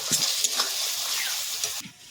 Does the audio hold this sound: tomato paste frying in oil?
yes